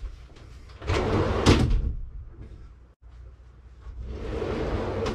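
The door of a shipping container tiny house swings and knocks as it is moved, a loud burst of scraping and thudding midway followed by quieter rattling and a second rising swell of movement noise.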